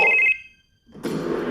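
A telephone bell rings in a short electric burst, goes silent briefly and then gives way to a broad rustling noise.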